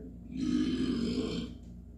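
One long, throaty burp swells up after a brief pause, holds steady and loud for about a second, then fades out, heard close and alone.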